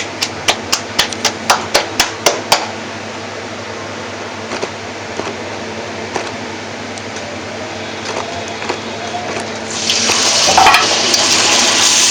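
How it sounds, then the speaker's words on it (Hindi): Puri dough hits very hot oil in a kadhai after a run of rapid sharp taps, and a loud bubbling sizzle rises near the end over a steady fan hum. "अब मैं कढ़ाई में डाल रही हूँ, कढ़ाई फुल गर्म हो चुका है, इसका ऑयल"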